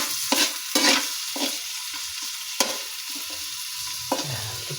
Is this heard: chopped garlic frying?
yes